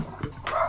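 A dog gives a short bark or two close by, brief and fairly loud, with no talking over it.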